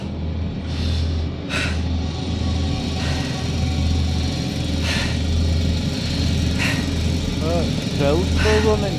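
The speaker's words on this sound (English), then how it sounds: "Drill's still running." An abandoned industrial drill keeps running on the lower level of a derelict drilling site, giving off a constant low mechanical drone with faint higher whines drifting over it and occasional muffled human sounds.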